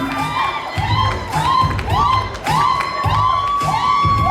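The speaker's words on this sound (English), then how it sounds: "They seem to have rehearsed the cheer and everything." A pageant audience cheers a coronation result in rhythmic, rehearsed bursts, loud rising shouts repeating about every half second, with thumping claps and stamps underneath.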